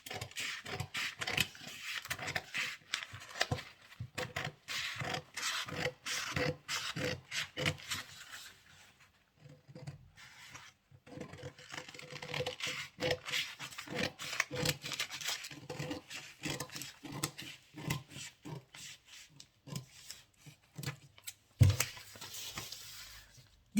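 Scissors snipping out a paper sleeve pattern around the back armhole, a close, quiet run of irregular crisp cuts and paper rustles with brief pauses.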